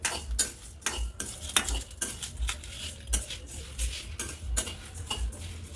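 Masala spices dry-fry in a pan for chicken pickle as a spoon stirs them, giving a quiet, regular scraping and clinking about every half second against a faint sizzle.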